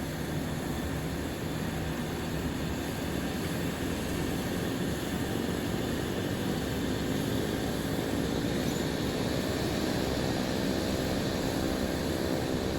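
Cessna C208 turboprop engine spooling up for takeoff, a loud continuous roar and drone that builds steadily inside the cockpit, heard alone without talk.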